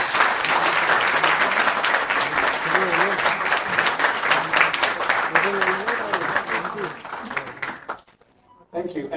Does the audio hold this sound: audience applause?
yes